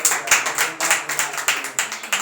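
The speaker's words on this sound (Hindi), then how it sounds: "जोरदार तालियां" Rhythmic group clapping in a Hindi-Urdu worship service, loud and close, with sharp beats falling in a steady pulse about every quarter second, along with a faint low hum.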